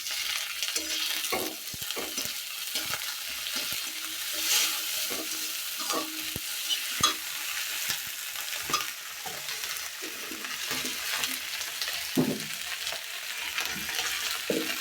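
Ginger and garlic paste sizzling and frying in a pan in a village kitchen while being stirred, with a steady hiss and scattered scraping clicks and knocks, close and fairly quiet, with no talk.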